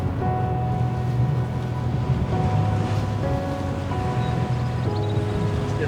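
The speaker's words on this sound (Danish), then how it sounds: "Windy day at the beach." Wind buffets the microphone while waves break and wash ashore on a beach at Børsmose, a loud, continuous roar with no talking.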